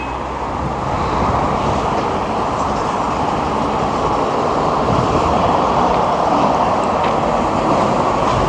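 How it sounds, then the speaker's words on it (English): A city tram passes in the street. Its loud, broad rumble holds steady throughout, close by and sustained, with no voices. "And there's one of the trams down there."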